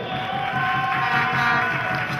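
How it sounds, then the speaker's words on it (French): A crowd at the opening ceremony of a national tournament applauds and cheers in a steady, fairly loud wash of claps and voices that holds without a break, with no single speaker standing out. "dames et messieurs, merci d'applaudir très très fort"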